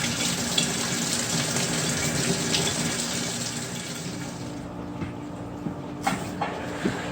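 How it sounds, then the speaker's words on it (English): Tap water runs steadily into a new fish tank being filled, a continuous close gushing hiss that thins out near the end, with a few small splashes and knocks as the flow changes. "So now I'm going to go ahead and start my water, filling it up."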